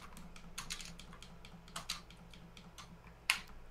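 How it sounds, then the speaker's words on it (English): Controller buttons click rapidly while someone plays Soul Calibur, a quiet, close, irregular patter of plastic taps with one sharper click near the end, no talking. "You can hear me clicking the, Yep. the buttons, can't you?"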